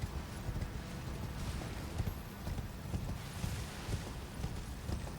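Horse hooves clip-clopping in the video game Elden Ring, Shadow of the Erdtree DLC: a steady, continuous run of rapid hoofbeats under a dense rumbling wash, moderately loud, with no talk.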